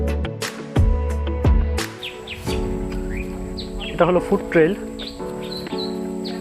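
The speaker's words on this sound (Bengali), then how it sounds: "উপরে পাখি ডাকাটাকি করতেছে" Birds call in the canopy of the Sundarbans mangrove forest, with scattered chirps and short whistled notes that are fairly faint and partly under someone speaking nearby.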